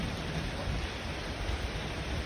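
Evening rain falls steadily on a garden at a rural Thai home, making an even, continuous hiss of drops with no pauses or voices.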